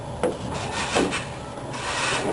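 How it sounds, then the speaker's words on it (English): Excess vinyl top material being trimmed along chrome trim on a car, giving a steady close rubbing, scraping sound with a few sharper strokes. "I'm going to trim off just a little bit more here."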